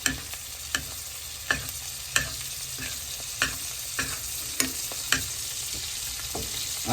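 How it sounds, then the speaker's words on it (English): A burger frying in butter in a pan on an RV stovetop, a steady close sizzle with periodic soft clicks and scrapes of stirring, no voices. "So you essentially are cooking this burger in butter."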